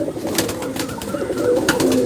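Madrasi pigeons in a loft at Ichhapur, Kolkata, coo steadily in low throaty rolls, several close overlapping voices without pause and no speech over them.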